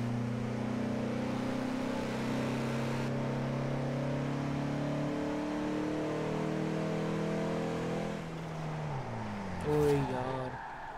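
A 2016 Toyota Land Cruiser base model in Forza Horizon 4 revs hard in second gear, a steady rising engine drone with stacked harmonics that climbs and then drops near the end.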